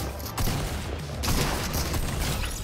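Shotgun fire in a video game sounds as dense, booming blasts over a rough, noisy mix of game sound, loud and close, with no clear pauses.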